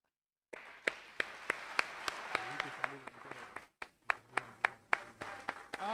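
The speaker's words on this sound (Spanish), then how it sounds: "ahí con el aplauso" A ceremony audience claps in slow, even rhythmic beats, faint and somewhat distant, after a brief silence at the start.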